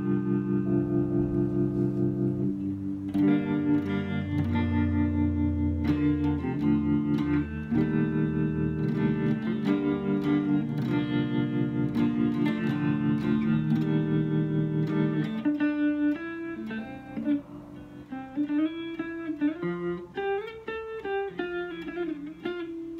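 An electric guitar on its neck pickup with a clean tone plays sustained chords and then single-note runs, steady and fairly loud with a touch of reverb and no talking.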